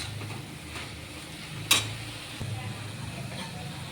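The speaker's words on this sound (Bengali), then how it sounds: "এখন আমি একটু নাড়াচাড়া করে ভেজে নেব।" Mung dal with papaya fries quietly in a pan as it is stirred, a soft steady sizzle with light scraping and one sharp metallic clink midway.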